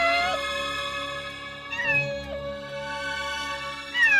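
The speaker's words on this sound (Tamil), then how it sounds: "என்னடி பூனை சத்தம் கேக்குது?" Cat meowing in a Tamil TV serial scene, a few plaintive drawn-out meows, close and clear, one starting near the beginning, another mid-way and a final one at the end, with no talk.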